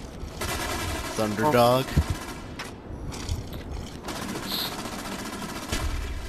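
Suppressed AK gunfire in Call of Duty: Black Ops, muted bursts of rapid shots that come and go among other game noises, with a player speaking over the action.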